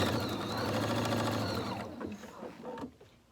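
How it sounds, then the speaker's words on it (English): A sewing machine runs in a steady whirring burst of stitching, then slows and stops with a few softer mechanical clicks. "Go to the sewing machine and whiz away."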